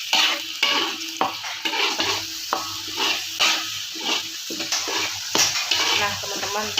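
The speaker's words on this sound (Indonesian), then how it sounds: "Lalu kita tumis-tumis seperti ini ya teman-teman ya, sampai aromanya keluar ya" Spices for a chicken and mango sambal are sautéed in a pan, giving a bright, steady sizzle cut by repeated rhythmic scraping strokes of a spatula, close and clear with no voices.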